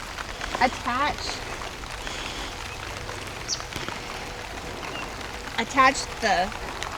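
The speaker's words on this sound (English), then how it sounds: "Now it's raining." Rain hisses steadily on surfaces while birds chirp intermittently and a voice briefly speaks nearby.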